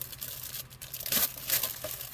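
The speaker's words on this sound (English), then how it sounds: "I like this kind of plastic bag that you don't have to cut. You can just open the darn thing." A plastic bag holding 1/35-scale Masterbox model figure parts is opened by hand, with soft, close crinkling and light rustles that are quiet and uneven.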